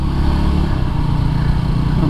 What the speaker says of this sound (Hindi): एकदम आगे से बाइक उठा रहे हैं